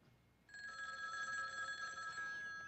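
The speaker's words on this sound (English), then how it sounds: "My phone, I'll be right back." A telephone bell starts ringing after a brief quiet, a bright continuous metallic ring close by that sustains steadily without voices.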